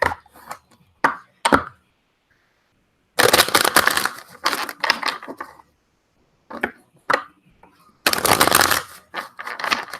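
Several bursts of tarot cards being shuffled, crisp riffling rustles separated by quiet pauses, with a few light taps in between.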